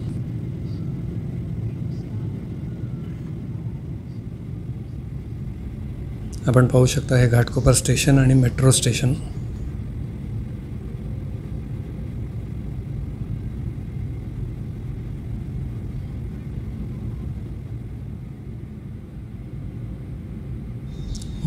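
Airliner cabin noise hums as the plane descends toward Mumbai airport for landing, a constant low rumble throughout, with a person speaking briefly in the middle.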